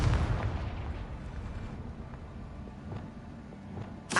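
A Confringo blasting spell explodes in Hogwarts Legacy during play at Rookwood Castle, a deep booming blast that rumbles on as a long low roar before a second burst at the end.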